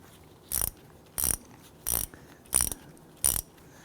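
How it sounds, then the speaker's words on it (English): An 8mm socket on a ratchet loosens the rear brake bleeder screw on a 2008-2013 Infiniti G37, five short, evenly spaced ratcheting clicks, close and crisp, with silence between them. "We're going to open up our bleeder screw."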